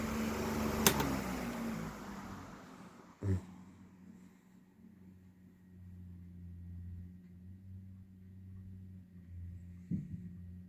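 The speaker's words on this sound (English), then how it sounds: "The spin down's really nice too." A 1988 Dayton Lasko 16-inch oscillating table fan, model 4C508, winding down after being switched off: a click, then a steady low motor hum slowly fading over several seconds, with a couple of faint knocks.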